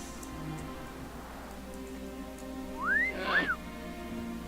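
A character's whistle emote in World of Warcraft: two quick rising, swooping whistle notes near the end, heard faintly over a low ambient game hum.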